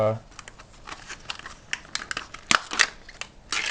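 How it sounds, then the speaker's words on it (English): Packaging holding GY6 scooter slider weights is cut and crinkled open, giving a run of close, sharp snips and rustles with quieter handling between them, while a voice talks over the work. "once you get the packaging open"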